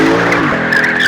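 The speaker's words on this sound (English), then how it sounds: "'2019 Lexus GS F. With no launch control, but we can kind of do burnout control." A 2019 Lexus GS F with a 5-liter V8 and rear-wheel drive spins its tires in a burnout: loud, continuous engine roar with a rising tire squeal close by, no talk.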